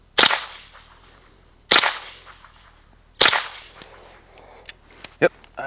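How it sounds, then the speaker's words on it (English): KR9 rifle fired with a JMac Customs Banka suppressor and supersonic ammunition: three loud, sharp cracking shots spaced about a second and a half apart, each with a short echoing tail, followed by faint clicks and clinks. "Got the Banka on the KR9, back to the supersonic ammo."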